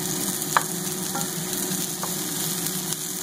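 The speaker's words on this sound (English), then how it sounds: "I love the smell of onions cooking" Onions sizzle steadily in a hot pan, a constant close frying hiss with a few faint stirring clicks and no talking.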